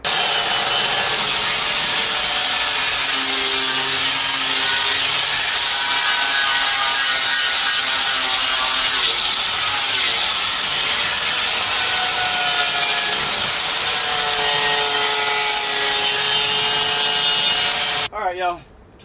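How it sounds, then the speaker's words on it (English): A wire wheel strips paint off the body of a 1991 Honda CRX Si, a loud, steady abrasive whir with a scratchy edge that runs for nearly the whole stretch before cutting off abruptly at the end. "Let me hit that side with the wire wheel to get the paint off"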